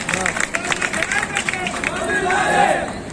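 A political rally crowd at a public meeting in Banswada claps and cheers: quick bursts of clapping from many people, then a rising roar of voices, loud and close.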